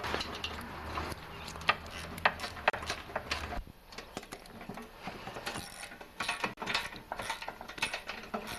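Ratchet wrench backing bolts off the cowling of a Tecumseh lawnmower engine, a series of close, rapid clicking bursts with short pauses between them and light metal handling around them.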